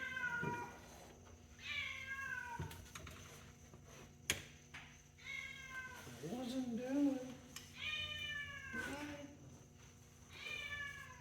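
A cat meows several times, drawn-out and fairly close, while a person talks softly between the calls.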